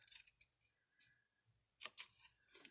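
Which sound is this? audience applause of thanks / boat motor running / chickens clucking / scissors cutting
scissors cutting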